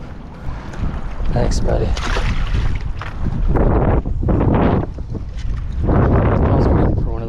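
Strong wind buffets the microphone at a fishing spot on a storm-lashed bank, a loud continuous rumble with gusts that swell and ease, while someone speaks briefly over it.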